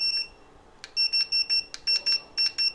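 An iPhone X/XS/XS Max preheating platform gives a string of short, evenly spaced electronic beeps at close range, each a clear high two-tone chirp, with a faint buzz beneath.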